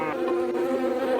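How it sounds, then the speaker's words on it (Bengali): Flies buzz around a cartoon cow in a cowshed, a steady, close, droning hum that runs unbroken for a second or so with no talk. "মাছি কামড়ায়"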